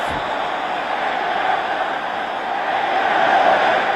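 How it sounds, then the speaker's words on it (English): Football stadium crowd at a 1976 European Championship qualifier between England and Czechoslovakia, roaring at the start of the second half: a steady, broad wall of massed voices, loud and sustained throughout with a slight swell near the end. "And the crowd giving vent to voice at the start of the second half."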